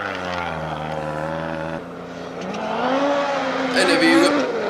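A rally car at Rally Sweden roars past, its engine note rising and shifting in pitch as it approaches, loud and near, with a voice talking over it.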